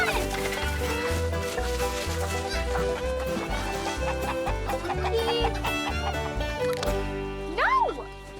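Chickens cluck and squawk in an Old West farmyard, the bird calls rising over a steady rhythmic musical bed, with one sharp squawk near the end.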